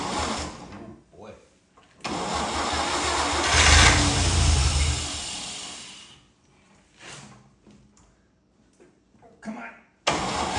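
A Fargo truck engine cranks and tries to catch with a hand held over the carburetor as a choke, a loud rough burst of several seconds that fades, with voices speaking between attempts.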